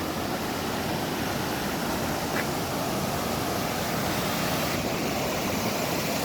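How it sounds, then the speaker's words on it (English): Firehole River water tumbling over waterfalls in Yellowstone: a dense, steady roar of rushing water, loud and unbroken throughout. "Beautiful, crystal clear water. Lovely waterfalls."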